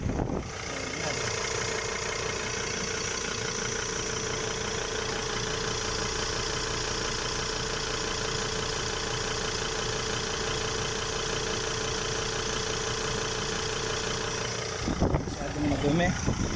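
Car engine idling with an HHO kit fitted: a steady, close, loud mechanical hum with a rough, knocking texture that runs without a break before a brief disturbance near the end.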